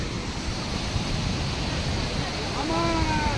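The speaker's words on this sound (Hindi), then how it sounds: "नागा कोटी का झरना, वाटरफॉल, क्या बात है।" A waterfall at Naga Koti on the Amarnath Yatra route in Jammu and Kashmir roars as a constant broad wash of rushing water outdoors, with a brief whistle-like tone near the end.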